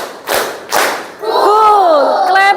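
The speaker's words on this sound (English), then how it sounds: "Claps one. Claps two. Yes, claps three." A classroom of students claps twice in rhythm during an ice-breaking game, two firm, close, separate claps, followed by a burst of young voices calling out together.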